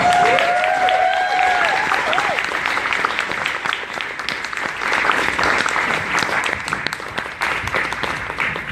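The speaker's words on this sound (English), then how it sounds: "Give a warm, badass round of applause for Tim Z. Hernandez." Loud, sustained round of applause from an audience at a creative-writing event, dense clapping and some crowd noise carrying on steadily throughout.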